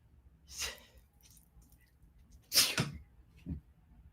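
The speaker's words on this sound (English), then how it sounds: "I have to sneeze." A quiet breath, then a single sharp sneeze close by in a hushed room, followed by a soft exhale.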